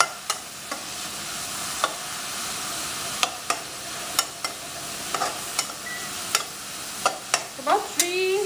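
Onions frying in a pan over a medium flame for Punjabi yellow masoor dal, a soft continuous sizzle punctuated by regular sharp clicks and scrapes of stirring, close by with no talking.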